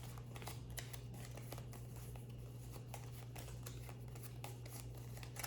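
Quick, papery riffling of Yu-Gi-Oh playing cards being shuffled close by, with light clicks and soft rustles repeating in short bursts throughout.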